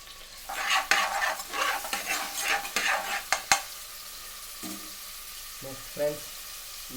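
Chopped onion hits a little hot oil in a pressure cooker, giving a bright sizzle with scraping stirs for several seconds that then settles into a quieter, steady fry with a few faint knocks.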